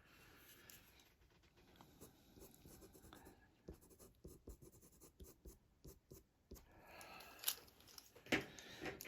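A pastel pencil draws and blends on paper while a serval kitten portrait is being finished: a quiet, close, continuous scratching of rapid irregular strokes, growing slightly louder near the end, with no talk.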